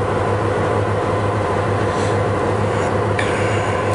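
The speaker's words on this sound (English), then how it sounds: "Looks like they reconnected the train." A low, steady rumble of a South Shore freight train idling close by after reconnecting its cars on a siding in Gary, Indiana, with faint metallic clanks and squeals over a constant drone.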